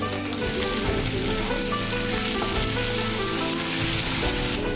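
Ginger, garlic and cumin paste hits fried potatoes in hot oil, sending up a loud, continuous crackling sizzle that carries on without a break.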